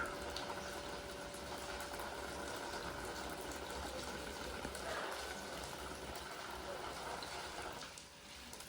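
Water pours steadily from a pipe onto potted plants, a continuous faint gushing and splashing that runs throughout at low level, with a soft hum in the background.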